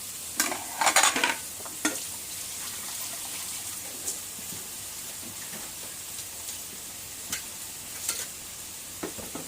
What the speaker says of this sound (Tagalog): Tapos haluin konti.